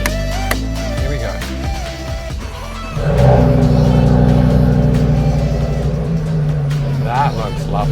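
Audi RS3 engine starting and running at a steady idle with a slight rise in revs, close and loud, while someone talks over the first part.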